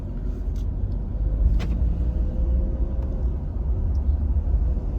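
A car rolls slowly through the entrance gate of Colt Creek State Park in Lakeland, Florida, giving a steady low engine and tyre rumble at close range with no talk over it.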